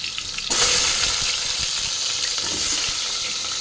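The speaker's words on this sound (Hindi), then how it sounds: "गरम तेल भाजी नेबा" Cut potatoes frying in hot oil for a Sunday mutton curry, a loud, steady sizzle that bursts in suddenly and then crackles on evenly and close by, with no talking.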